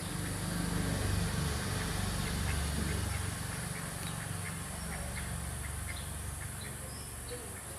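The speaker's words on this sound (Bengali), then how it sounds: "দেখছো ওই হাঁসগুলো পুকুরে নেমে গোসল করার জন্য" Ducks quack repeatedly at a pond where someone is line fishing with a hook, a steady series of mid-distance calls over a constant low rumble of background noise.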